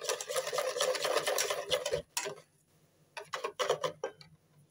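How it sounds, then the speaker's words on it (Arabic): A whisk stirs flour and baking powder in a bowl for a cake, giving rapid, soft, close scraping strokes, then a pause and a few short bursts of stirring. "نجيب المضرب بقى بتاعنا، ونجيب الدقيق والبودر، نقلب ده كله كويس جدا"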